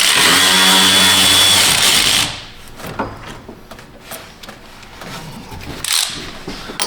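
A power tool runs loudly for about two seconds while removing the cooling fan bolts on a 2018 Chrysler 300, then stops, followed by quieter clinks and handling sounds of parts and tools.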